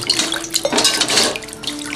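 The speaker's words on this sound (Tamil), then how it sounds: "பாருங்க நல்ல தண்ணி இது சுத்தமான தண்ணி ஊற்றி" Clean water is poured over kelagan fish as they are washed in a bowl, giving a close, brief splashing and trickling with light clinks.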